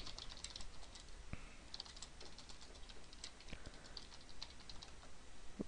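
Light, irregular keystrokes on a computer keyboard tap out a password in a quiet room, with faint scattered clicks and no voices.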